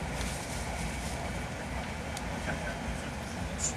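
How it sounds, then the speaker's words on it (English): A Taiwan high-speed bullet train rushes past with a steady, loud, broadband rumble and roar that holds unbroken throughout, with no voices. "here's some bullet train footage from Taiwan."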